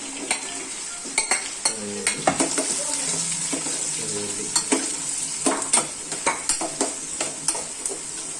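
Shallots frying in a pan, continuous sizzle under repeated rhythmic stirring scrapes and clinks of a spoon against the metal, close and fairly loud, with a brief murmur of voice.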